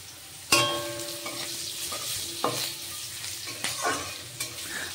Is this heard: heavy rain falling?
no